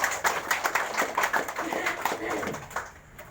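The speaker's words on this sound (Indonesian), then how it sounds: "Tepuk tangan buat Bapak Ibu semua." Audience clapping at a Golkar party consolidation gathering, a brief burst of dense hand claps that fades out after about three seconds.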